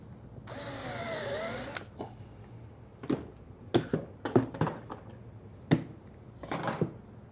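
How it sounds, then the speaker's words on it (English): A drill whirs for about a second as a Vix self-centering bit bores a shelf pin hole in a wooden base cabinet side, followed by a series of light clicks and knocks from handling the bit and wood. "Now I'm using a Vicks bit, just a brand name, but this is a self-centering bit."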